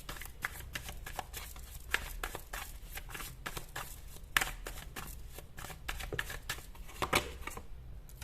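Tarot cards being shuffled and handled in a series of quick, crisp riffling flicks and soft slaps, close and fairly quiet, with no voice.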